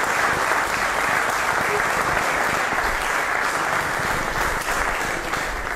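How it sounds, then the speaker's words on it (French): An audience on a 1999 Congolese television music show applauds a guest, a loud, sustained sheet of clapping that stays even from start to finish. "On applaudit pour lui."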